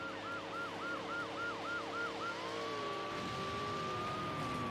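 Police car siren in the racing video game Need for Speed: Hot Pursuit 2, a fast rising-and-falling wail that shifts into a long steady tone over engine rumble, loud and close.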